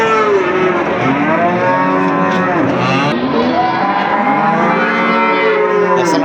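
A cow moos loudly and repeatedly at a crowded livestock market, long drawn-out bellows close by over a steady background of crowd noise.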